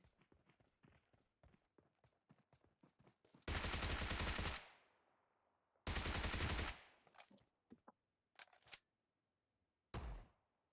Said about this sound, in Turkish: Şu an bak sıkıyor. Gel diye sıkıyor bana.